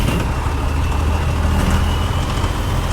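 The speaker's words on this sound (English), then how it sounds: "Trucks following me." Trucks driving past on a road during a walk in El Cotillo, a loud continuous low rumble of heavy engines and tyre roar that fills the whole stretch with no break.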